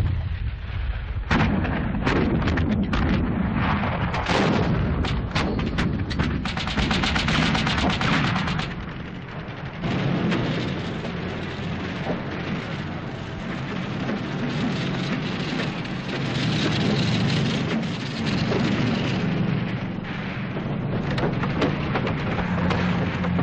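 Artillery guns, including captured enemy pieces, fire during the siege of Tobruk: a loud, dense barrage of repeated booms and cracks, thick at first and then merging into a continuous rumbling roar.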